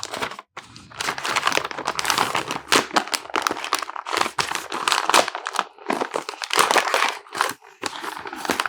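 Gift wrapping paper on a baby's New Year present is torn open in a busy run of crinkling and ripping bursts, close and fairly loud, with short pauses between pulls.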